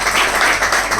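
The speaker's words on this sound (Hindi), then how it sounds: "जोरदार एक तालियों से स्वागत किया जाए" Crowd applause at the inauguration of an apheresis machine at a Rotary blood bank in Mathura, welcoming a guest: a brief, steady wash of clapping.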